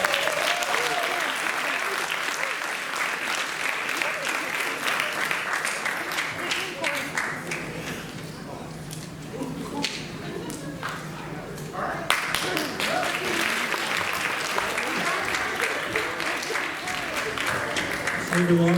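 A school audience applauds a middle school show choir at a performing arts awards night, with a long, full burst of clapping that dips in the middle and then swells again.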